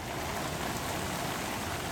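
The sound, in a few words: rain starting to fall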